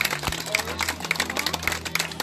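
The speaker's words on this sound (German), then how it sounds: "Ein Applaus für Karl den Käfer." Brief burst of audience applause at an outdoor family event, steady clapping mixed with a low hum and some faint tones.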